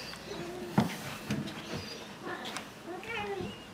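A hungry house cat meows several times before dinner, short rising cries spaced out over quiet room noise while a person talks softly to it.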